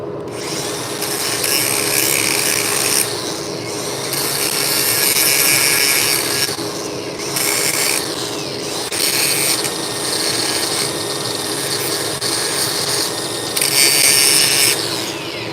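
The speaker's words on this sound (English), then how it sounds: "I just kind of need to clean the slag off there." Abrasive scrubbing or grinding to clean slag off a weld, harsh rasping strokes in repeated passes with brief pauses over a steady shop hum, close and loud, no talk.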